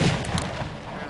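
A gun fires in the video game Defiance, producing one loud, close, booming shot that opens the moment and then fades into a rumbling tail over about a second.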